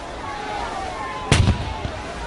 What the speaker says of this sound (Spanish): el barco británico lanzaba su artillería contra el casco y las cubiertas del buque francés